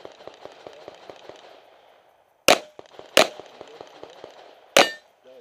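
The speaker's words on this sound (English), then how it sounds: "shoot the bottom one, another shot" Three loud, sharp gunshots at targets in a shooting match ring out close by, spaced unevenly over several seconds, each with a metallic clang, amid quieter rhythmic ticking and faint background noise.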